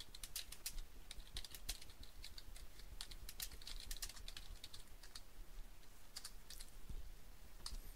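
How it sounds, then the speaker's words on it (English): Steady, fast typing on a computer keyboard as an article is entered into a website news-story form, with dense clicking keystrokes and a few brief pauses, close and moderately quiet, with no voices. "what I'm going to do is just type in the article"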